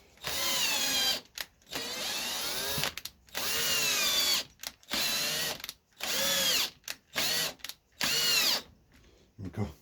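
A power drill drives bolts in with repeated whirring bursts, each rising and falling in pitch, separated by short pauses, loud and close, with no talking.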